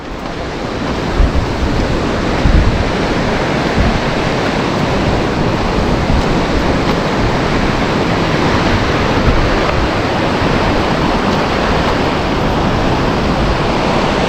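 A river with a strong current rushing through a narrow channel at Nagtipunan, Quirino, a loud, continuous roar of turbulent water that stays steady and close throughout, with no voices.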